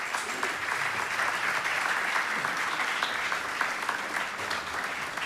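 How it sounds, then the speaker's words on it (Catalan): Dense, sustained applause from an audience welcoming the president of a foundation at a formal event, an even wash of clapping held at a steady level throughout. "Senyor Ciurana, un fort aplaudiment, sisplau."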